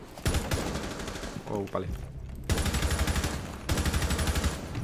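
Rapid automatic gunfire rattles in a Rainbow Six Siege match, loud close bursts with a brief pause midway before firing resumes, while a player speaks briefly over it.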